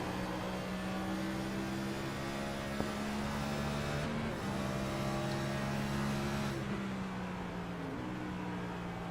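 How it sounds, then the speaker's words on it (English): Onboard a QFRL race car at Phoenix driven by Kenneth Pack, a steady engine drone holds through most of the run, with pitch drops as it downshifts to fourth; no one speaks. "So we see Kenneth downshifting to 4th here through 1 and 2."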